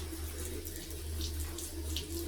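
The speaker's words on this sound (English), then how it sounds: "What we are doing is more hand washing." Water runs steadily from a faucet into a sink during hand washing at a daycare, a continuous close splashing rush with small shifting spatters.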